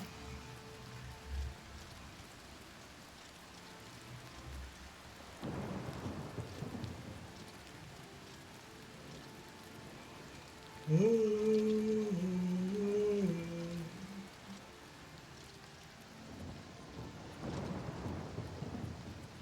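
Soft, steady rain in The Elder Scrolls IV: Oblivion Remastered, with distant rumbles of thunder, quiet overall, with a brief tonal electronic sound rising midway.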